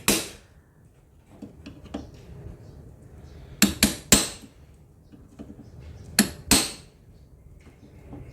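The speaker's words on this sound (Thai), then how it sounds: "เราก็ตอกไปเรื่อยให้รอบเลยนะครับ เพื่อไม่ให้มันหลุดนะครับ" Sharp metallic hammer taps lock the bushing of an aluminium fan motor housing, isolated strikes and quick pairs spaced by quiet gaps, close and crisp.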